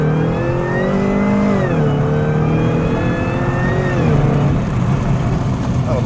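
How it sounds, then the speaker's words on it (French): A supercharged V8 in a Cadillac CTS-V accelerates hard on a closed road. The engine note and supercharger whine climb loud and steady, with brief dips at the gear changes. "Ah, on entend bien le compresseur."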